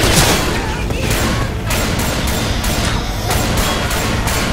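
Rapid, loud gunfire from Left 4 Dead 2 as survivors shoot zombies, dense bursts of shots packed close together throughout with some voice mixed in.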